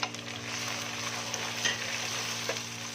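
Spice masala with salt, chilli, cumin and turmeric fries in a pan for beef kofta, giving a steady close sizzle with occasional scraping stirs and no talk.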